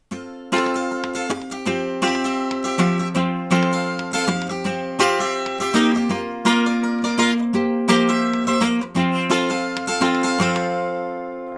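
Guitar playing a song slowly, a steady strummed chord pattern with bright ringing strings and rhythmic accents, played alone at moderate loudness.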